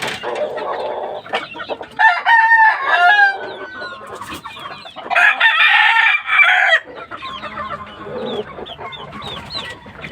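Black bulik gamecock rooster clucking and crowing loudly up close, with several long crows broken by shorter clucks, other fowl calling nearby and someone talking quietly in between.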